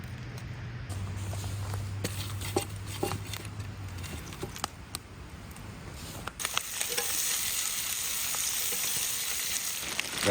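Onions and kielbasa frying in butter at a riverside campsite, a steady crackling sizzle with scattered stirring scrapes and clicks, growing louder and denser partway through, with no talk.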